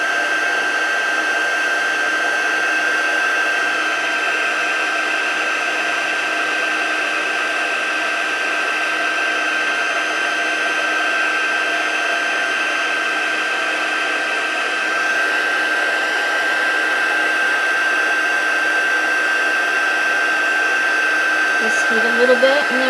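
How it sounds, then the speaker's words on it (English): A heat gun blows steadily for a long stretch while heating embossing powder on a Stampin' Up! card, a constant loud whirring hiss with a high whine, unbroken from start to finish. "If your heat gun is hot, it'll go much faster."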